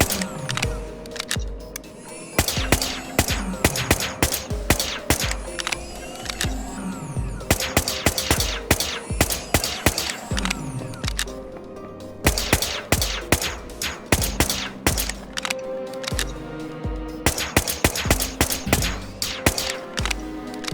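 Gunfire from a combatant with unlimited shots in the video game Whispers of a Machine, repeated loud sharp bursts in clusters over a steady musical and ambient game background, no talking.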